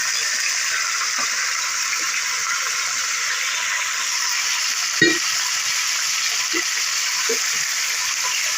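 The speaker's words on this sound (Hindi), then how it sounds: "इसको हमें करना अच्छे से फ्राई करना ऑयल में।" Chicken necks fry in hot oil for an Afghani karahi, giving a steady, even sizzle throughout with a few soft clinks and a brief utensil knock midway.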